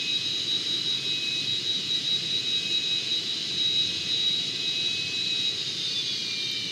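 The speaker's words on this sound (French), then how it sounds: "Voilà, moteur éteint." F18 jet engine in Microsoft Flight Simulator, a loud, steady high-pitched whine over a broad roar, holding level and then sagging slightly in pitch near the end as it winds down.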